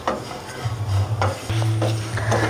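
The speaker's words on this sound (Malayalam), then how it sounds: "ഇനി ഇതെല്ലാം കൂടി നന്നായിട്ടൊന്ന് വീണ്ടും വറുത്തെടുക്കാം." Grated coconut with curry leaves is roasted in a pan for a Kerala-style pork curry. A spatula scrapes in repeated stirring strokes over a soft, close sizzle.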